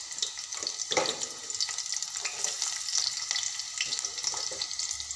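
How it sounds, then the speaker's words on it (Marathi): Chopped onion drops into hot oil in a pot, producing a close, bright, crackling sizzle with frequent pops that carries on steadily throughout. "तेल तापलेलं आहे, त्यामध्ये मी कांदा सोडणार आहे।"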